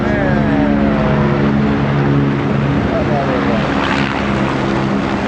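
A loud, steady helicopter engine drone with a low rhythmic rotor thrum passes overhead, continuous throughout with no talking.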